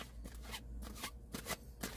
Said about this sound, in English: do a little bit more hand shuffle here and a split